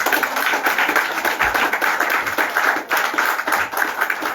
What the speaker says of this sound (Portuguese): O céu com palmas, irmãos.